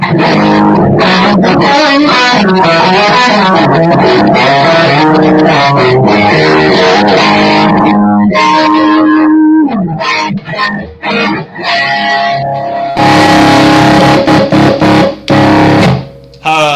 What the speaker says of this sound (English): Now I've got a Tube Screamer and a Noble's ODR1 basically running Tube Screamer ODR1 now to my amp. And it adds volume to it, and it adds more gain.